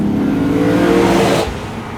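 A 2020 Lexus GS F engine revs hard, rising in pitch through a strong pull before the note drops off sharply near the end. It comes through loud and close, with no talk over it.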